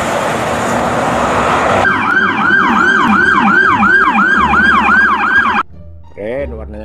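A blue-and-white toy police truck siren wails in a loud, steady up-and-down cycle, repeating rapidly for several seconds before cutting off, followed by a brief fainter electronic chirp.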